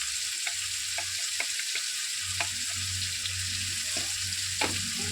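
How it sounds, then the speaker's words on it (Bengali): Biryani masala with turmeric and salt being stirred in a pan, a steady close sizzle of frying with scattered spoon scrapes and clicks throughout. "তো ভালোভাবে নাড়তে হবে।"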